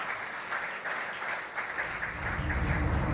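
Audience applause for award winners at a sports awards ceremony, a continuous dense wash of clapping from a large hall crowd, steady and fairly loud throughout.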